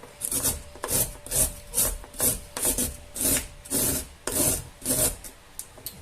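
Food rasped on a cheap hand grater in a home kitchen while making a chunky pork pasta, heard as repeated, rhythmic scraping strokes, close and loud, with no talk.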